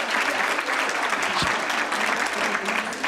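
A round of applause from the audience at a university alumni event, dense and sustained clapping at steady volume throughout, with a brief low thump partway through.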